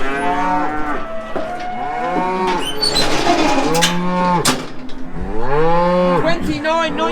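Several cows moo one after another in a farm shed, loud and near, their long bellowing calls overlapping.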